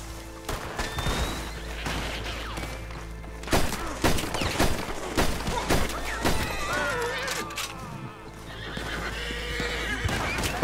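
A horse in the Western video game Red Dead Redemption whinnies amid hoof clip-clops and scattered bursts of gunfire, with a loud neigh standing out over the din of the shootout.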